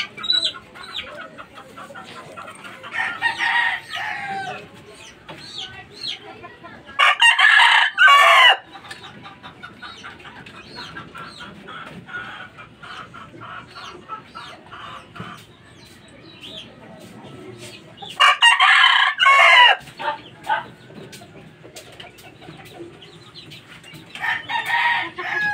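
Gamecock and chickens at midday, with two loud rooster crows standing out over ongoing hen clucking and faint background chatter.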